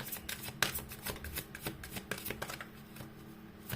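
Tarot cards are shuffled and drawn at a reading, a soft run of quick riffling flicks and slaps close by, steady for several seconds with no talk.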